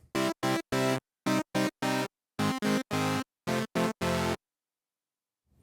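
A plain initialized preset tone on a Korg Prologue synthesizer plays a series of short and held notes in a simple rhythmic phrase, bright and buzzy, then silence.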